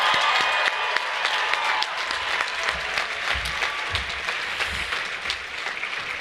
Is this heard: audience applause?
yes